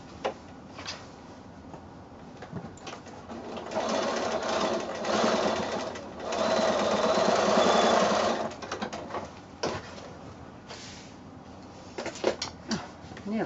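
A sewing machine stitches across a seam on a quilted zippered pouch made from 10-inch squares, running in two loud bursts of rapid whirring separated by quieter handling clicks, with talk around them.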